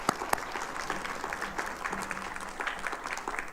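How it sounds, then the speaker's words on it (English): Audience at a community college board of trustees meeting gives a round of applause, fairly faint and steady clapping with a few sharper claps, heard without speech. "So let's give them a round of applause for that."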